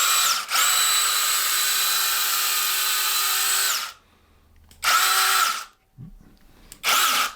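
A battery-powered saw that converts between hand and pole use, running unloaded in a steady high whine for several seconds. The motor winds down, then spins up again in two shorter bursts, loud and close, with no talking.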